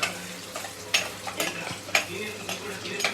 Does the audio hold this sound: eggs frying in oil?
yes